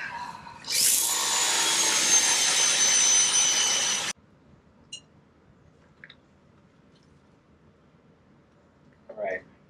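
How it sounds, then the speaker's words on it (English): A loud, steady high-pressure water jet from a pressure washer driving a pipe into the ground to drill a backyard well roars for several seconds, then cuts off abruptly, leaving quiet with a few faint knocks. "I'm gonna get the jet in there and start drilling."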